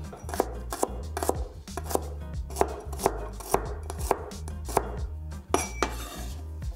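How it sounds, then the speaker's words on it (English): A knife dices shallots on a cutting board in a home kitchen while mapo tofu is being prepared, giving a steady run of crisp, close chops with no talking. "Next, we'll dice up the shallots."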